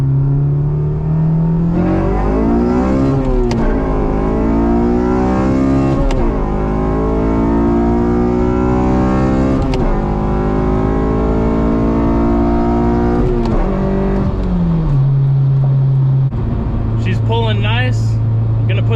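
A Hondata-tuned Honda pulls hard uphill from a 20 mph roll, heard from inside the car. The engine note climbs loudly through several rising sweeps broken by gear shifts, then drops back to a steady low drone.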